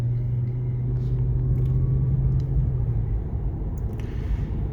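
Steady low road rumble inside the cabin of a 2006 Lexus LS430 Ultra Luxury sedan while driving, a smooth continuous drone that eases slightly in level toward the end, with no talking.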